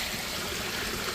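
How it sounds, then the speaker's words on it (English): A waterfall on the Appalachian Trail in Massachusetts gives a steady, close, broadband rush of falling water with no voices. "but the waterfall"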